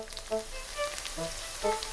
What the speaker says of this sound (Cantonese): 最後入油鑊炸透